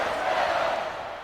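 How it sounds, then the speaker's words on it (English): A crowd at an American football game in Huntington Beach gives a steady, broad roar of cheering, distant and continuous for just over a second, with no other sound standing out. "Hear that crowd right there cheering them on."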